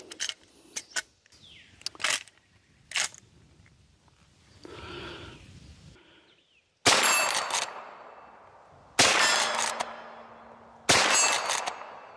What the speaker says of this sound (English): We're going to shoot 38 Special.